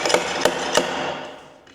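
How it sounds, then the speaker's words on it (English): Bungs are knocked loose from whiskey casks, giving a few sharp hollow knocks over a noisy, reverberant rushing background. The sound is fairly close and fades toward the end. "take the bungs out and then get a sample from every cask"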